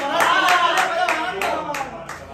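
Audience clapping at a Hindi poetry recitation, a loud rhythmic run of distinct hand claps in a steady beat that tapers off slightly near the end.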